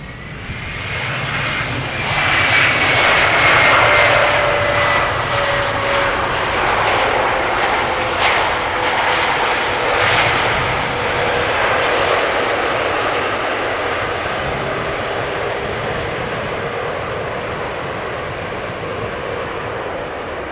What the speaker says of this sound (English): Embraer 190 arriving from Dublin, behind this airplane on the glide slope to Polderbaan